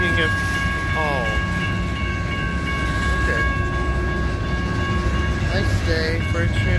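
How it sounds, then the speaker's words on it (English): Freight train of many cars rolling past on a Western railroad line on a clear morning, a steady continuous rumble and wheel clatter throughout, with squealing tones and a voice speaking briefly. "I don't know how many cars are on this train."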